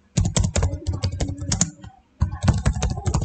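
Rapid typing on a computer keyboard, close and crisp, in two quick bursts of clattering keystrokes separated by a brief pause.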